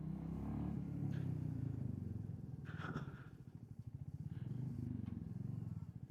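A motorcycle rides into the grounds at a roadside inn, its engine putting steadily and close with pulsing revs, while voices speak faintly in the background.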